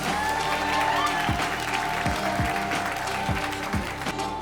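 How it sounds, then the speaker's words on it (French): An audience applauds a volunteer at a live show, steady clapping throughout with rhythmic low thumps and a sustained tone underneath. "On applaudit,"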